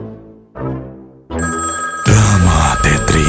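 A telephone rings loudly and repeatedly for an incoming call in a Telkomsel ad, building from a soft tone into a dense, full ringtone that carries to the end.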